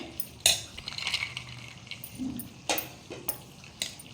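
Andhra-style coconut rice with cashews stirred in a pot, a spoon scraping and clinking against the metal in irregular bursts, several sharp clinks standing out over soft rustling.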